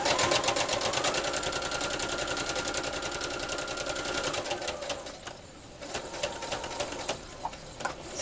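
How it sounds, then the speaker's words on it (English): A sewing machine runs steadily on quilt binding with a fast, even stitching rhythm close by. It slows and stops about halfway through, followed by a few scattered clicks and quiet handling. "Bring your project back to the machine. And you'll sew all the way to the next corner."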